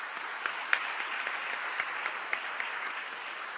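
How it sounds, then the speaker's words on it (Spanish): A seminar audience on municipal reform claps to greet an undersecretary, a soft, steady rain of applause in a room with a few sharper individual claps standing out. "demos un aplauso de saludo"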